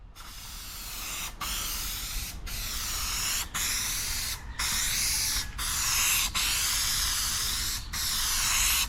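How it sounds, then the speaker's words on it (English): Primer sprayed onto car bodywork during DIY block-sanding prep, a loud steady aerosol hiss in long continuous bursts broken by several brief pauses, close to the listener with no talking. "Let me spray it."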